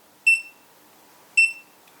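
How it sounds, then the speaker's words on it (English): A Retekess TD177 keypad paging transmitter gives two short, bright electronic beeps about a second apart, clear and close against a near-silent background. "Now we can hear the beep sound of this keypad transmitter."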